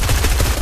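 Rapid gunfire in a harpoon-themed multiplayer video game, a loud, dense burst of repeated shots that runs throughout the short moment, close and with no speech over it.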